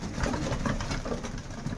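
Low, murmuring pigeon coos repeat over a steady background hum, fairly close and moderately loud.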